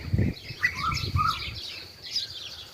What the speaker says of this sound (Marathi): आणि हे दोन्ही कोकिळांचं भांडण चालू आहे